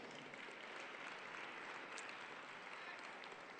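Graduate commencement audience applauding an honorary degree recipient, a steady, even roar of many hands clapping, faint and distant, with no breaks.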